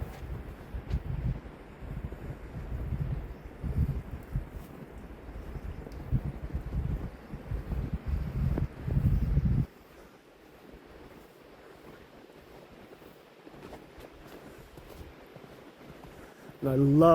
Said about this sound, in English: Sitherism being the sound of the wind blowing through the trees.